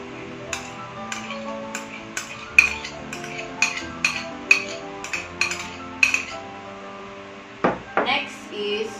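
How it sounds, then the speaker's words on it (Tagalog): A spoon clinks against a bowl while tuna sisig ingredients, crushed pork cracklings and mayonnaise, are mixed together, giving a steady series of sharp taps roughly every half second with a scraping sweep near the end. "So, ipaghahaluin na po natin yung mga ingredients."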